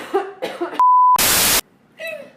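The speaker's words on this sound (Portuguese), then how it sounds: "deixa eu tossir antes de você começar a falar." A single sharp cough after some brief speech, cut in between by a loud electronic beep and a burst of noise, then more talking follows.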